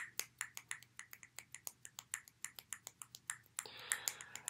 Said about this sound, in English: You can also snap if you're feeling really fancy.